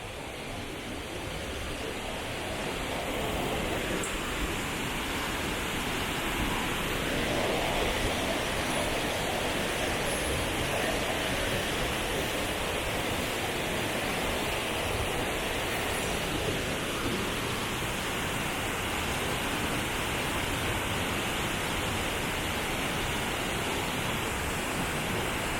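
A waterfall in Cebu, Philippines pours continuously, heard as a steady, even hiss of falling water that stays unchanged for the whole stretch with no voices.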